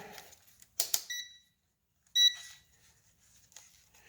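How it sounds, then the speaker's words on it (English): Short electronic beeps from a nearby battery meter, a quick pair followed by a brighter tone a moment later, with quiet handling noise between. "Beep, beep."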